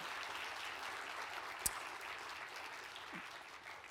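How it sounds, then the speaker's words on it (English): Audience applause for a speaker at a talk, steady moderate clapping heard somewhat distant and fairly faint, with a single sharp knock partway through. "Can we get an applause for Dr. David Wood,"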